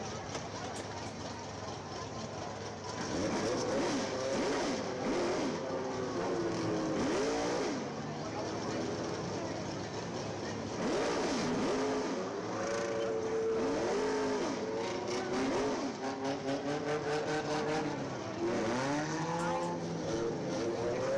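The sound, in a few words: race cars on a speedway track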